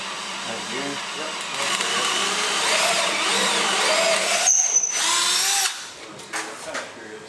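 Power drill running while a motor is hung on a center console fishing boat, a loud steady whirring drone for several seconds that stops abruptly, with people talking over it.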